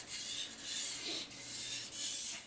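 A Moritaka kitchen knife sharpened on a whetstone, with steady rasping strokes back and forth in a slow rhythm, close and fairly quiet, with no talking.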